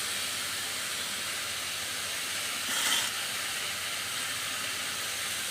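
Jute leaves (pat shak) frying with salt in a pan give a steady, even hiss throughout, with a brief louder sizzle swell partway through.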